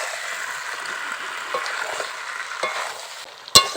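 Chicken curry spices with Kashmiri chilli are stirred and frying in a pan, with a steady close sizzle, soft scraping strokes and a sharp utensil clink near the end.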